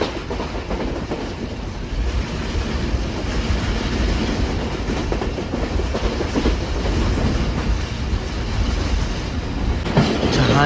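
The Pak Business Express 33UP runs through a railway station, a sustained loud rumble and clickety-clack of wheels on track with wind buffeting, steady throughout and heard from on board.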